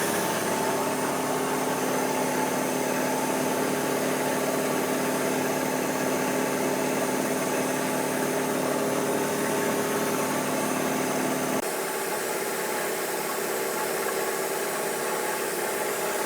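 An air compressor runs steadily in a machine workshop beside a surface grinder, a loud continuous motor drone with a strong hum that cuts off abruptly near the end, leaving quieter machine noise.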